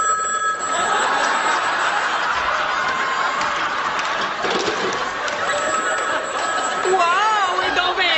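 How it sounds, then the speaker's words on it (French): A busy, warbling electronic phone ringtone plays loudly and continuously, with a trilling melodic line near the end and voices chattering faintly underneath. "C'est une sonnerie que j'ai trouvée par inadvertance sur le répertoire de mon téléphone"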